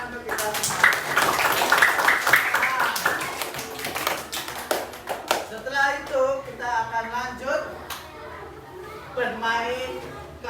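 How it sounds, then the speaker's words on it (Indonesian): A primary school classroom bursts into brief clapping and tapping, children's voices rising over it before an adult teacher speaks, the applause fading into talk after a few seconds. "tepuk tangan untuk kita semua"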